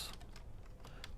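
Typing on a computer keyboard, a quick patter of soft key clicks, faint and close, with no voices.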